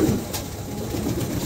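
Pigeons kept for sale in a loft give soft, low cooing over a brief stretch, close by and fairly clear, with no talking.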